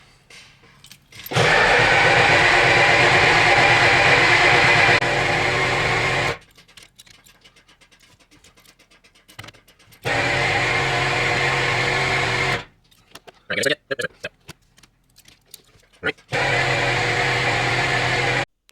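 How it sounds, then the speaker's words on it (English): An old-body-style Ford truck that sat unused for four years cranks on its starter in three long, loud, steady whirring bursts separated by quiet gaps with scattered clicks and knocks. "After cranking this thing long enough to fry bacon on the starter, eventually I did get it started."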